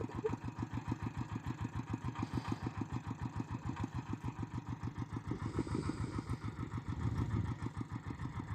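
A ploughing vehicle's engine runs steadily in a farm field, a fast even low thumping pulse that holds close and constant throughout, with no talking.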